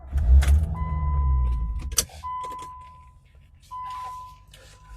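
A car starts after a water pump replacement and coolant system work, with a low rumbling engine crank and idle, keys jingling, and steady electronic warning chime tones, heard close inside the vehicle.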